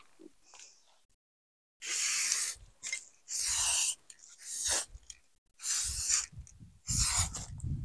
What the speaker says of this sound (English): I'm going to mark out the placement of the first row of tires with some spray paint